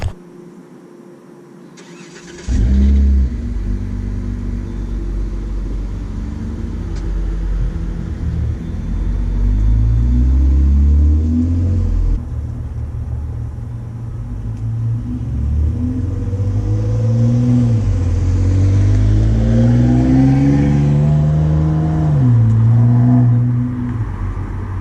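A 3.6L Pentastar V6 with a Flowmaster Super 10 exhaust starts up with a loud bark, then settles into a deep rumble and rises and falls through several throttle pulls, close and loud throughout with no talking.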